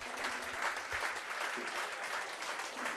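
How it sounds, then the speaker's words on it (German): An audience at a founding ceremony gives steady applause, dense continuous clapping at moderate volume that holds evenly throughout with no talk over it. "Ein Applaus bitte für den Herrn von Gottberg"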